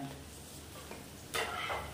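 Cumin seeds fry in hot oil for sabudana pulao, a soft steady sizzle that jumps louder and brighter partway through, as if the seeds were just stirred or more went into the pan.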